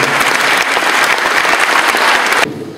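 Audience applause at a poetry award ceremony in Città di Castello, dense steady clapping from a crowd for about two and a half seconds before dropping away abruptly near the end.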